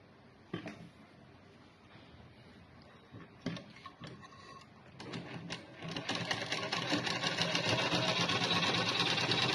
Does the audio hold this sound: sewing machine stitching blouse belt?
yes